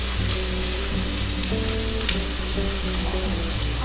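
Food sautés in a pan for a spelt salad, a steady close crackling sizzle that runs continuously without pause, with no voices.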